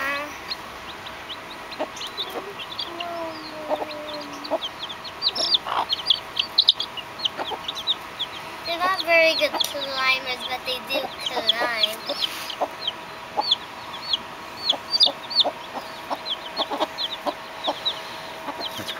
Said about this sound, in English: They squeak when you hold them.